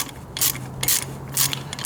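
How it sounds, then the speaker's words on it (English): A ratchet wrench working water pump bolts loose on a junkyard Mustang engine, giving a few quick close clicking bursts in a steady rhythm with no talk. "I'm getting these water pump bolts out so I can see if I can take this timing cover off"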